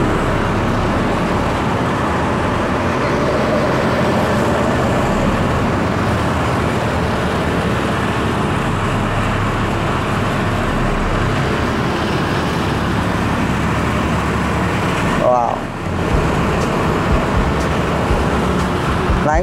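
Dongfeng B180 bus, an extra-long 9.5 m coach, rolling through a corner, heard from inside as a steady loud engine drone and road roar, with a brief dip near the end.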